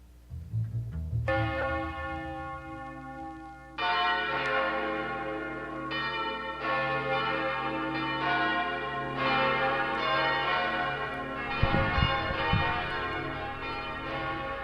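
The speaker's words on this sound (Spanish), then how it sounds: "escuchamos de fondo las campanas" Church bells in the city of Tunja ring out in a sustained peal, overlapping strikes layering into a rich, moderately distant resonance, with a brief low thump near the end and no voices.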